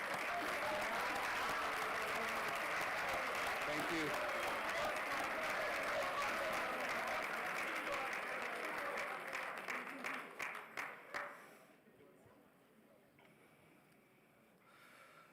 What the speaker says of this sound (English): Will the current head waiters please stand for a round of applause?